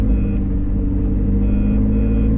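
A McLaren engine running under light throttle while the car drops into limp-home mode with an ESC fault, producing a steady, loud low rumble that holds at an even level throughout, with a faint high electronic tone sounding intermittently above it.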